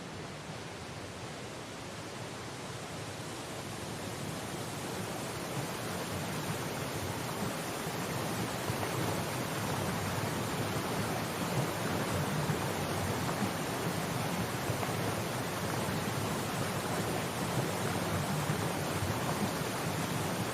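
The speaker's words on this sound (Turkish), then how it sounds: "Bre şu heybetli şelaleler." Big waterfalls in the video game Syberia: The World Before make a steady, dense roar that holds even and continuous throughout, with no voices.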